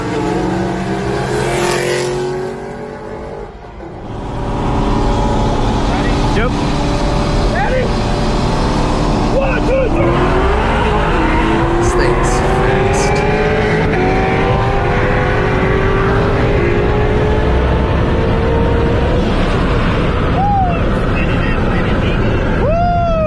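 A loud car engine revving and accelerating, with rising and falling engine whines and passing vehicles, continuous throughout and mixed with faint voices.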